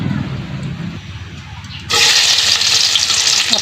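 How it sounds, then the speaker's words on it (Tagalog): Cooking oil poured into a hot kawali on a home stove sets off a sudden, loud, broad sizzle that holds steady after a quieter opening with faint talk. "lagyan na natin ng mantika"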